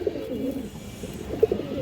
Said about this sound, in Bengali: এই দেখেন দর্শক বাঘা মাদি কবুতর